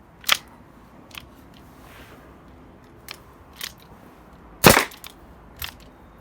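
A Colt 1911 A1 pistol fires a handful of single shots at irregular intervals, sharp and fairly distant-sounding cracks, with one markedly louder report; no talking is heard.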